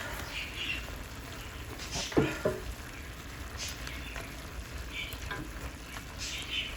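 Potatoes and Morningstar vegetarian sausage crumbles fry in a pan while being stirred, a soft, fairly faint sizzle with occasional scraping clicks and a couple of brief louder knocks.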